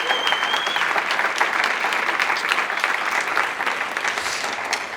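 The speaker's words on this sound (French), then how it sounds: "Je voudrais vraiment qu'on les applaudisse très fort." A live audience at an evening talk on hypnosis breaks into loud, sustained applause, dense and steady for the full stretch with no voices over it.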